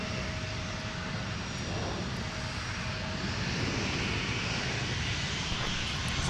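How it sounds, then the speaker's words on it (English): A 2003-built Boeing 757-300 jet airliner bound for Orlando at MSP airport, its engines giving a steady, loud, broadband roar that holds unbroken throughout with no voices. "How about a nice close-up on our 757-300 that is headed to Orlando?"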